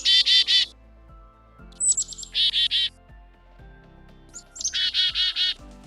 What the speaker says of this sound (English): The name chickadee is imitative of the sound they commonly make